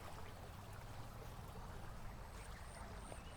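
Water flows at the foot of Mahuli Fort in a steady, continuous broadband rush, close and unbroken throughout.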